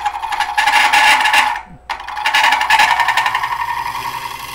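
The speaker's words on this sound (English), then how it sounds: "I can just make a shear scrape cut or scraping or shear scrape cut just in that one area" A shear scrape cut on a green-wood bowl spinning on a lathe gives a loud, steady rasping scrape that drops out briefly midway, then resumes with a slightly chattering texture.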